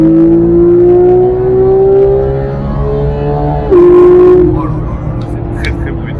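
A Porsche 991 GT3 with PDK Sport gearbox, sport exhaust and stiffened suspension revs hard to high rpm, its loud, sustained engine note climbing steadily, dipping briefly, then surging again from inside the cabin.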